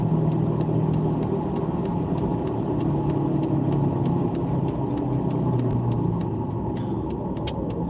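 A car rolls along a rough unpaved track in low-speed four-wheeling, its engine droning steadily under a rapid, regular ticking and rattling from inside the cabin, heard close with no talking.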